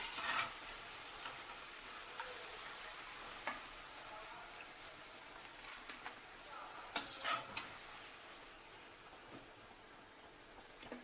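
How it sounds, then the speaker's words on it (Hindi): Okra (bhindi) fries in hot oil with a soft, continuous sizzle, broken by occasional sharper clicks and stirring sounds close by. "मैंने इसको भी फ्राई कर लिया है और मैं इसको ऑयल से निकाल ले रही हूँ"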